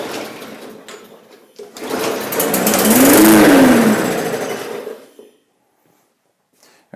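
An MTD push mower engine catches, builds to a loud buzzing run for a few seconds, then sputters out and falls into near silence.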